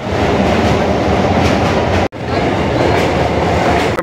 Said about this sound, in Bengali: ট্রেনে উঠে গেছি